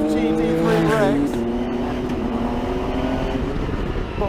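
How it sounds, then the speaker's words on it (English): A Glickenhaus SCG003C race car, a GT3-style build, drives at the Nürburgring in treacherous conditions, its engine note rising and shifting through gears close by, with someone talking over it. "Today we've got the race car."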